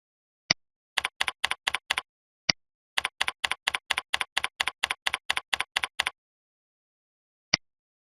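Computer keyboard typing heard alone and fairly faint, in two quick bursts of crisp rapid keystrokes with a few isolated single clicks before and after.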